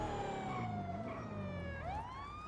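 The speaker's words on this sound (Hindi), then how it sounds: "पुलिस की गाड़ी है मेरे पीछे पुलिस की गाड़ी है" A police car siren wails steadily in a GTA 5 driving scene, its tone sweeping down and then rising again, loud and continuous over a busy backdrop of game engine and traffic noise.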